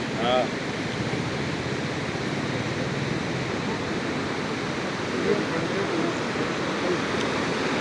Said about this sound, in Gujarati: અહીંયા બે નદીનો પ્રયાગ આવે છે અલકનંદા